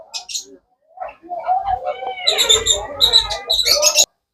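Myna birds at a bird seller's shop give loud, close whistles, chirps and rising calls in several bursts, with brief pauses between them.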